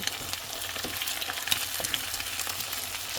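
Onion and egg frying together in a pan for fried rice, giving a steady, close sizzle with small crackles and light stirring scrapes throughout.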